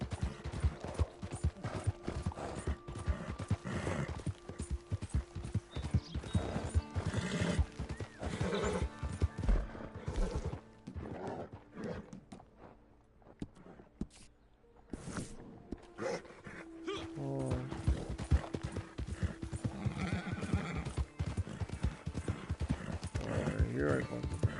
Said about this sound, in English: You can't get on that horse.